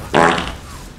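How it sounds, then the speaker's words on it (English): A single loud, close fart with a sharp onset and a drawn-out, rumbling tail lasting under a second, heard on its own during a random dungeon farming game session. "The farts. Yeah. All in succession."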